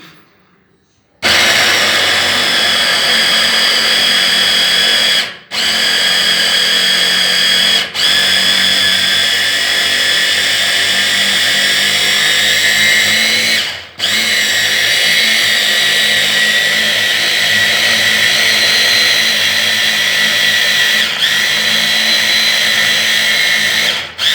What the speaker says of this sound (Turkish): şimdi blenderımızı çalıştırıyoruz. Biraz gürültülü olacak.